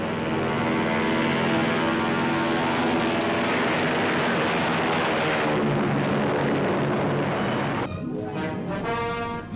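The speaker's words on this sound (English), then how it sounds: "the huge airliner leaves the water with the grace of a mammoth bird" A huge WWII Navy flying boat, the Mars, takes off from water, roaring with heavy, continuous engine and propeller noise, loud and sustained, its tone shifting near the end as it climbs away.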